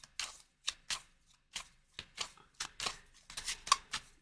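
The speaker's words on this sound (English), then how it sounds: "I'm going to pull 3 cards." Tarot cards shuffled and pulled by hand, a quiet close series of short papery riffles and soft slaps in an irregular rhythm, each burst separated by brief silence.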